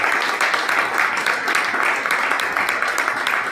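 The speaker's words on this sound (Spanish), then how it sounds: "Fuerte el aplauso al Señor." Congregation applauding the Lord during a church service: dense, steady clapping from many hands that fills the whole stretch evenly and loudly, with no clear talking over it.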